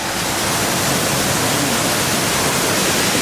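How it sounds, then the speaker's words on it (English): A forest waterfall in Romania roars loud and close, a dense, unbroken rush of falling water with no voices over it. "we've literally just walked off the path and already found ourselves an amazing waterfall"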